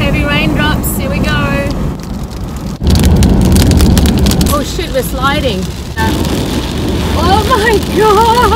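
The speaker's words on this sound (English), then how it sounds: "Heavy raindrops, here we go." Heavy rain pounds on a car roof during a thunderstorm in the Australian outback, a dense loud patter with people talking excitedly inside the vehicle throughout.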